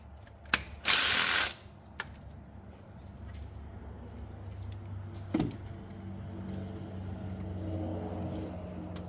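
A ratchet wrench with a 10mm socket works a tight bolt on an old Chevy truck, giving a short loud burst of rapid clicking near the start, followed by scattered clanks and a low background hum.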